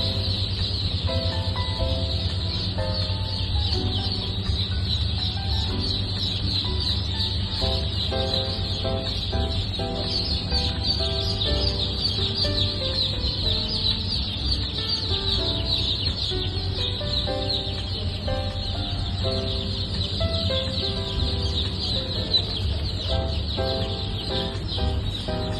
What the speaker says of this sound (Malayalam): ഇവ സാധാരണ വിഗോവ താറാവ് കുഞ്ഞുങ്ങളല്ല, ഹൈ ഗ്രോത്ത് കൂടിയ വിഗോവ സൂപ്പർ ഹൈബ്രിഡ് താറാവ് കുഞ്ഞുങ്ങളാണ്